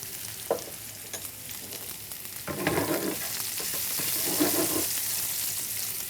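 Sliced onions with a pinch of salt frying in a pan, a soft continuous sizzle with occasional stirring scrapes that swell louder toward the end.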